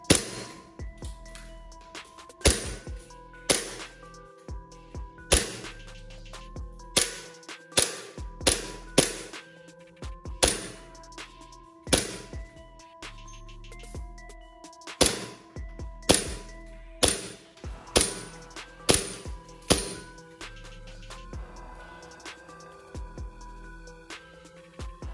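A gas-powered Glock BB pistol fires a long series of sharp, snappy pops at an irregular pace, each shot distinct and fairly close, over a steady faint tonal background.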